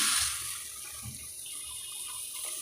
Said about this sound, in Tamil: சாப்பாட்டுக்கு வைக்கிற அரிசி ரெண்டாவது தண்ணி ஊற்றிக்கலாங்க